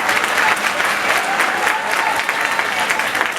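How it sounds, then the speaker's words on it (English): Graduating class at a 2013 high school graduation ceremony applauding themselves in a loud, continuous crowd roar of clapping, with voices and cheers mixed in. "Clap it up for yourselves, 2013."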